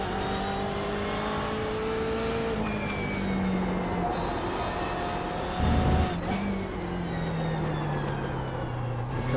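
A race car engine revs hard on a track, its pitch climbing steadily through the gears with brief dips at shifts, loud and close from inside the car, without talk.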